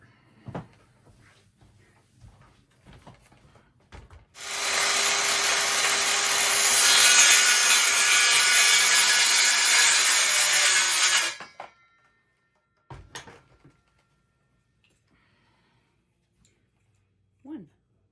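Power saw cutting through small wood pieces for a holiday DIY project, one loud sustained rasping cut of about seven seconds, close by, with brief knocks of the wood before and after.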